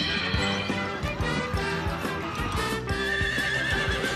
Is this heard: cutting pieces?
no